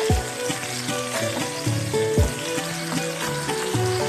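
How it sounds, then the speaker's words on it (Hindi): Chicken frying on a low flame in a pan, a steady soft sizzle with occasional louder bumps and pops, moderately quiet and close, no talking. "लो फ्लेम पे हम फ्राई करेंगे इसको"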